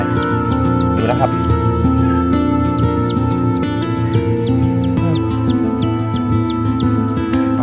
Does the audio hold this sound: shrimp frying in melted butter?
no